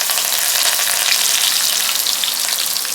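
Curry leaves, cumin and mustard seeds fry in hot oil for a pakoda kadhi tempering, giving a loud, dense, continuous sizzle and crackle with no voices.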